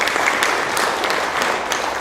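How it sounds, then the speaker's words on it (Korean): Audience applause following a lecture at a regional development training session, a steady, dense wash of clapping from a large crowd throughout, with no voices. "큰 박수 부탁드리겠습니다"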